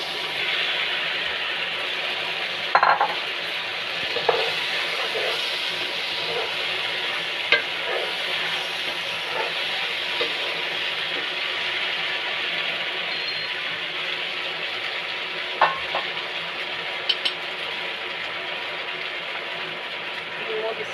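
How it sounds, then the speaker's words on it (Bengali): Boiled macaroni is tipped into a frying pan of vegetables and peas for a vegetable pasta and stirred, giving a steady, loud sizzle throughout with occasional scraping clinks of the spoon. "এখন মাকারুনিটা দিয়ে দিচ্ছি"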